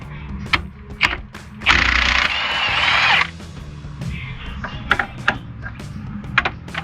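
A pneumatic impact wrench rattles off the 21 mm rear bolts holding a brake caliper on a 2006-2023 Dodge Charger, one loud sustained burst of hammering with short clanks and taps of tools before and after.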